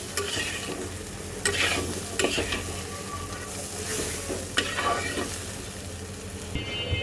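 Spice masala for a potato and soybean curry frying in a pan while being stirred, with steady sizzling and repeated scraping strokes of the spoon, close up and without talk.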